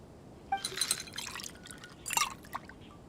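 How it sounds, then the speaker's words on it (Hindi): A drink is poured in Genshin Impact, light glassy splashes and trickling drips in two short bursts with quiet gaps between, close and fairly soft, with no speech. "अरे ये जूस का आवाज सुन के तो भाई"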